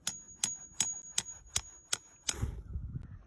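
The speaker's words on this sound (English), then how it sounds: "just gently tap that spile into the tree" A hammer gently taps a metal spile into a tree trunk for sap collection outdoors, six evenly spaced light knocks followed by a brief scuffle and handling noise.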